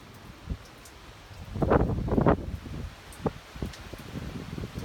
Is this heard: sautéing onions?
no